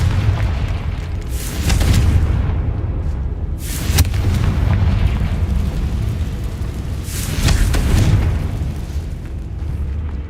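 Confringo fire blast spell exploding in Hogwarts Legacy, loud booming bursts, three distinct blasts with a roaring rumble between them.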